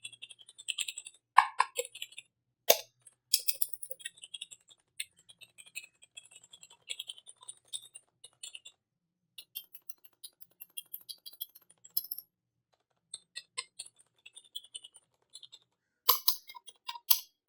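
Fingers type on a Redragon K512 SHIVA membrane gaming keyboard in irregular bursts of soft, light key clicks with short pauses and a few sharper taps, close by and fairly quiet with no voices.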